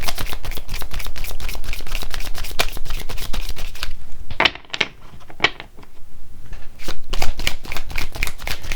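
Tarot cards shuffled close by in dense, rapid flicking bursts that pause briefly for a few soft slaps, then start again at full pace, with no voices.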